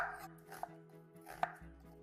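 Onion, including red onion, chopped with a knife on a board into fairly coarse pieces; two sharp, quiet knife knocks against a soft room background, with no talk.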